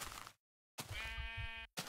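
Sheep bleat in a video game, a soft sound and then a longer wavering bleat after a brief silence, faint and with no talk over it.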